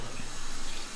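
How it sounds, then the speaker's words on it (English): Water turned on and flowing into the reception cell of an earthship, a steady broadband rush that runs without a break for the full second. "I'll turn on the water."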